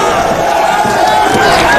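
A jubilant crowd welcomes the president of Guinea in the town of Kisika-Baketa, a loud, dense wall of cheering and shouting voices continuing without a break.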